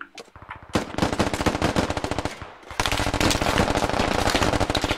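Gunfire in the military video game Squad: rapid sustained machine-gun bursts, loud and close, with a brief pause before a denser continuous volley.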